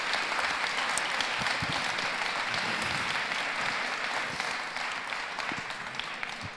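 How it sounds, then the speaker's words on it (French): An audience applauds to welcome the author Alaa El Aswany at a public event, a sustained dense burst of clapping that slowly fades toward the end. "Applaudissez-le,"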